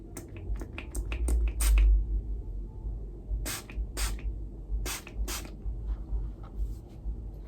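Hair product sprays from a spray bottle in a quick burst of short hisses, a pause, then several more spritzes, close and crisp, with light handling noise between them.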